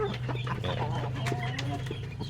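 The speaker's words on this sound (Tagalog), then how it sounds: "Yan yung mga pasisiw natin na mga dumalaga na." Young pullets cluck and chatter in a chicken pen on a breeding farm, several soft overlapping clucks and short calls over a steady low hum, fairly close and moderately quiet.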